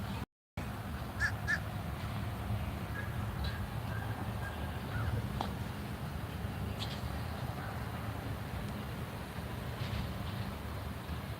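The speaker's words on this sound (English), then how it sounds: "A lot of happy seagulls and birds and vultures and other scavengers." Seagulls, vultures and other scavenger birds calling at a landfill, scattered distant caws over a steady outdoor rumble.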